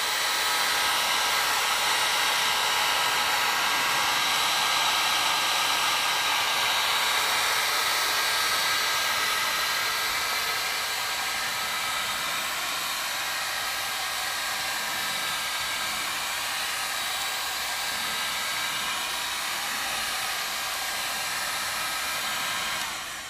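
A hot air gun blows steadily on a cloudy car headlight during headlight repair, giving a loud, continuous, even hiss that runs the whole time with no talk.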